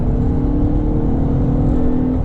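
A car with a J-series engine fitted with a P2R spacer revs toward about 5,000 RPM, giving a loud, sustained engine drone with a steady whining tone, close and without talk.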